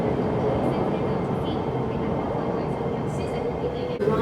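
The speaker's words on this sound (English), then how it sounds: "248 also is a Gen 2 BM train," A metro train at Tai Koo Station gives a loud, steady, close rumble of wheels and motors that holds evenly for several seconds, with a brief sharper clank near the end.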